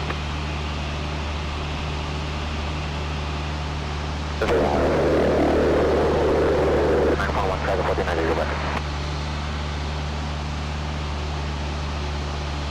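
A light propeller airplane drones steadily throughout from inside the cockpit, a constant close engine hum with radio talk and voices breaking over it midway.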